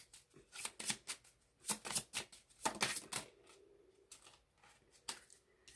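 Love oracle cards being shuffled by hand, a run of soft, quick riffling bursts close by, pausing briefly and then resuming, with no talking.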